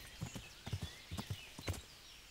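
Horse hooves clip-clop in a rhythmic gallop in Kingdom Come: Deliverance, a steady pattern of paired thuds during a chase after a bandit, fairly close and clear with no talk over them.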